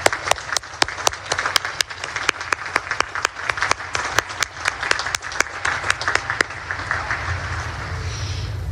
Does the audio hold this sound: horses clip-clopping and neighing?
no